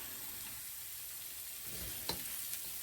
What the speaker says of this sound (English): This is garlic and ginger. Let it saute a little bit.